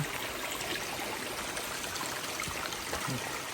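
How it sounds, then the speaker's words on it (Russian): Steady broadband rush of a clear mountain stream in Spain's Aran Park flowing continuously, a constant watery hiss with no pauses or voices. "Здесь водичка, горная река, горный ручеек."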